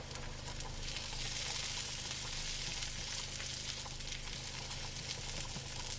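Shrimp sizzle in a hot pan with garlic and onions for shrimp Alfredo, a steady hissing fry with a low hum beneath it, even and continuous throughout with no talking.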